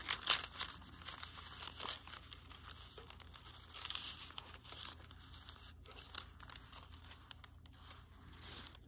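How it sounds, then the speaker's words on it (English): Paper is torn by hand for a swatch sample, soft close tearing and crinkling in short uneven bursts, fairly quiet, with no talking. "So I'm gonna tear about here"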